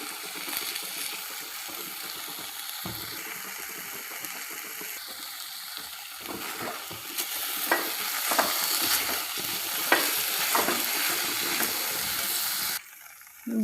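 Beetroot halwa with dry fruits being mixed in a pan, a soft continuous scraping and shuffling of the spoon with faint sizzling, steady and close but fairly quiet, with no talk.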